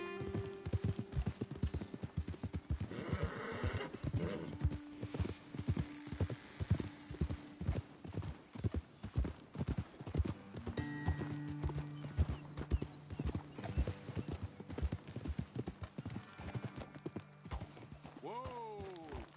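Horses ridden in Red Dead Redemption 2 clip-clop steadily over the ground, their close hoofbeats running throughout with a brief whinny and voices talking over them.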